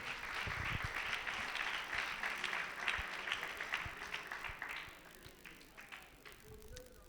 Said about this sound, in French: je voudrais qu'on l'ovationne pour le recevoir à nos côtés